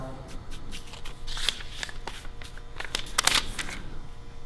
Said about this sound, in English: I'm going to peel this off again, apply paper off tension